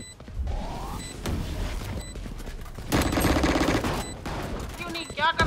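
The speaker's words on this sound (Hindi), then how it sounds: "कौन सी गन से मार रहा है ये" Bursts of rapid gunfire in Valorant, mixed with other game effects and sounds, with people talking excitedly over the shooting.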